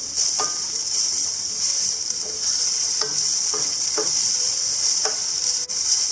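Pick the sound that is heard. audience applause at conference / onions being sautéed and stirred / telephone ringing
onions being sautéed and stirred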